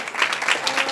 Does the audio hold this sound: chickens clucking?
no